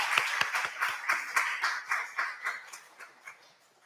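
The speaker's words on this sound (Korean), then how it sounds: "자, 박수 한번 하겠습니다." A church congregation at a Sunday service claps together in a quick, even rhythm, about a dozen sharp claps that slowly fade away.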